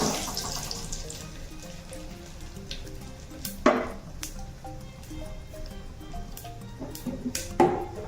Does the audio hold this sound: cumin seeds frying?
yes